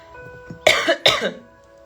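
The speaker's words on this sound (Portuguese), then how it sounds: "Eu tô com uma tosse" Two sharp, close coughs in quick succession from one person, with a short wheezy tail and quiet surroundings.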